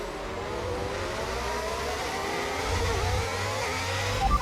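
Formula 1 race car in a racing video game accelerating back to speed at Spa, a steady loud engine drone with rising harmonics held throughout, no talk.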